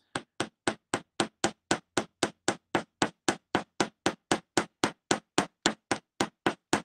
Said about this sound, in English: A lot of times people think that when you're hammering, you have to hammer it like you're He-Man